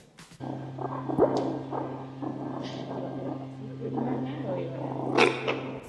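Low, rumbling growls from meerkats, overlapping and continuous with a steady hum, punctuated by brief squeaks and chatter.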